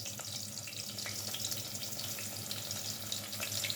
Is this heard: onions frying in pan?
yes